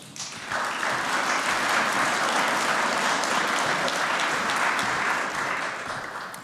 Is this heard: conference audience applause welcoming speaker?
yes